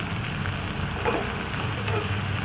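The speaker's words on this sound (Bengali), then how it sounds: "এবারে এটাকে ভালো করে ভাজতে হবে" Onion, capsicum and green chilli fry in hot oil, a dense, steady sizzle that hisses evenly throughout without any talking.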